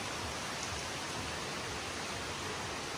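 Steady rain pours down outside a resort balcony in Bali, a dense, even hiss of falling water with no breaks and no voices.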